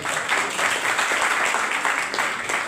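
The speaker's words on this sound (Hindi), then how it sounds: "ताली बजा लीजिए उसके बाद" Continuous audience applause for a guest at a Kshatriya council gathering, brisk and evenly sustained clapping from a sizeable crowd, close and fairly loud with no break.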